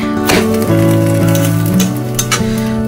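Egg frying in a pan for a roti egg roll, a steady loud sizzle throughout with light scraping taps, and a low tonal hum running underneath.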